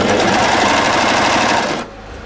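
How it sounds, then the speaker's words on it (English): Loud, steady sewing machine whir stitches a knit jumpsuit shoulder seam from the neckline, running continuously close up before cutting off near the end. "I'm sewing now from the neckline to the shoulder seam."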